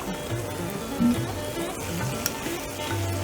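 Yogurt and prawns sizzle steadily in a hot pan of oil for a Bengali doi chingri, with a continuous crackling fry and a few soft stirring knocks, close and moderately loud, no talk.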